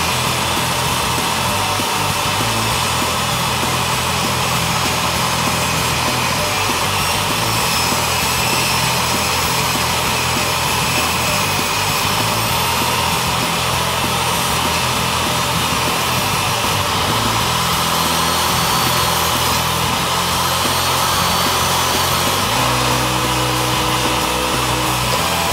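A drop saw cuts hardwood timber on a New Zealand construction site, its loud, continuous whine droning steadily and close for the whole stretch, with a slight shift in pitch near the end.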